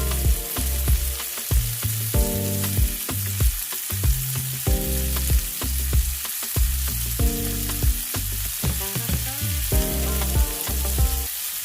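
Green beans with almonds and lemon zest sizzle steadily in a hot pan, a continuous bright frying hiss with periodic stirring and tossing clatters and scrapes.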